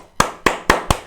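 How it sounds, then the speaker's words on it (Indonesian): Four sharp hand claps in quick, fairly even succession, close and distinct, with nothing else heard around them. "Kenapa Bang kok tepuk tangan?"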